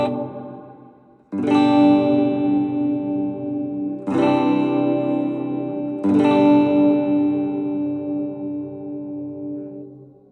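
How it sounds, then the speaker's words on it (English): Electric guitar chords through the shimmer reverb of an M-VAVE Mini Universe pedal, three struck chords ringing out with long, bright, modulated tails and no talking. "Next one we're going to hear is the shimmer reverb."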